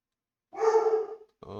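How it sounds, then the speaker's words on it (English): A dog in BeamNG driving gameplay gives one drawn-out, fairly close bark, followed after a short gap by the start of another sound. "Let's pull up back and let the dog bark."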